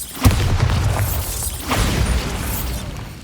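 Bombarda explosion spell cast in Hogwarts Legacy: two booming blasts with crackling debris, the first sharp and loud, the second softer about a second and a half later, over a continuous game rumble.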